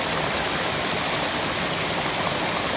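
A hidden waterfall in the Chiveli jungle of the Konkan roars with a loud, unbroken broadband rush of falling water, close by and alone.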